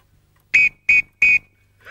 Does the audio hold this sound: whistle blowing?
yes